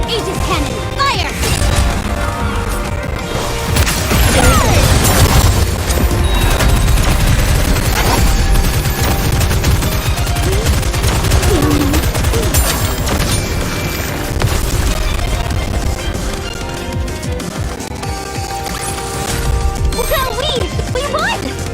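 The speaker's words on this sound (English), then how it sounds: "Aegis cannon, fire!" An Aegis cannon fires in the video game NIKKE, a dense barrage of booming blasts and crashing impacts layered with battle effects and game music over about twenty seconds.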